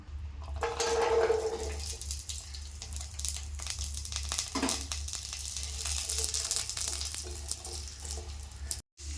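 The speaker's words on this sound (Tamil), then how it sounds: "இப்போ இந்த எண்ணெயில் இந்த பூண்டை போட்டு நல்லா வதக்கி எடுத்துக்கலாம்." Garlic frying in oil in a pan for a garlic pickle, giving a steady close sizzle and hiss with faint stirring and clinks throughout.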